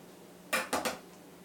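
A knife slicing a beefsteak heritage tomato, giving three quick, crisp clicks close by against a quiet background.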